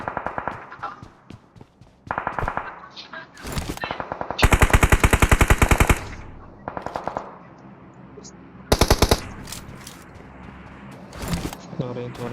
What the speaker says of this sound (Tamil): எங்க இருந்து புல்லட் வருது எனக்கு